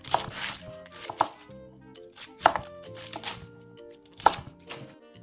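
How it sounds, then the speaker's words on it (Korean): A knife chops halved napa cabbage, outer leaves removed, into bite-size pieces for radish water kimchi: several sharp, close board strikes at irregular intervals with quiet handling between. "반으로 잘라서 먹기 좋은 크기로 썰어줍니다."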